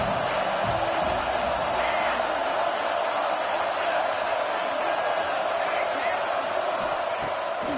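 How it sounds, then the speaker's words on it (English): A college football stadium crowd at an LSU versus Clemson game roars in a steady, dense wash of cheering and whooping, loud and continuous throughout with no pauses. "This crowd ready to make its presence known."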